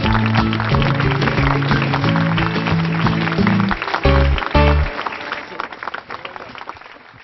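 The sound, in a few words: applause for Rupankar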